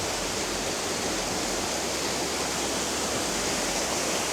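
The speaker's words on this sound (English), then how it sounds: "I don't know how well you guys can hear me over the waterfall noise." Steady, loud rush of falling water fills everything, a constant hissing roar with no pauses, like standing near a waterfall.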